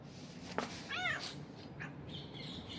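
A cat outdoors in Beersheba, Israel, gives a single clear, wavering meow, fairly close, against quiet background noise, with a faint second call shortly after.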